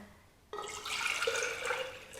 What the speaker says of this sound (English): The way that I like to do that is I take water, and here's 2 cups of water.